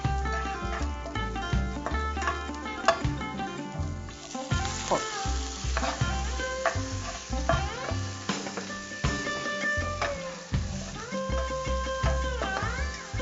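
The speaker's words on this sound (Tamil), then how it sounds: "நம்ம இப்ப தக்காளி போடுறோம்." Tomatoes frying in a hot pan for a horse gram rasam, a loud, crackling sizzle close by with stirring scrapes and clinks of a spoon against the pan running through the whole stretch, without talk.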